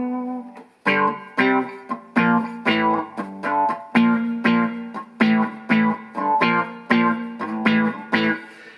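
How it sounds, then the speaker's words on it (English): Electric guitar played through a Boss ME-70 multi-effects unit with wah pedal, a phrase of about a dozen sustained, distorted notes picked in a steady rhythm, each swelling and sweeping in tone, loud and close with no voices. "and you've got a wah up and wah down."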